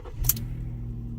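A 2013 Ford Police Interceptor engine starts and settles into a steady low rumble, with a brief sharp click near the beginning.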